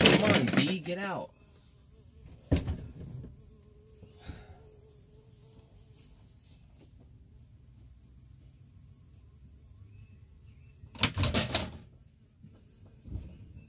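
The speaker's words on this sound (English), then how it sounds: "I hear a fucking bee or wasp or something buzzing on me." A bee or wasp buzzes close by inside an RV during a starter removal job, a faint intermittent drone broken by a few louder knocks and rustles, with brief bursts near the start and end.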